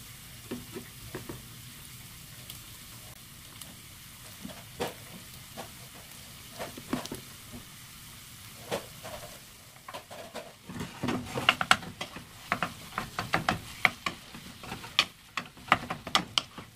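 Kefta minced meat frying with garlic in a pan gives a continuous soft sizzle, with sharp clicks and scrapes from stirring that grow busier and louder toward the end, all close and without speech.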